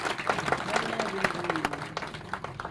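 A crowd at a Jain temple sermon claps in a brief ragged burst, moderately loud and close, with a voice speaking over the clapping.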